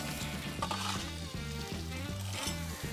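Asparagus sizzles on a hot grill top with a steady, close crackle and faint scraping, with no voices.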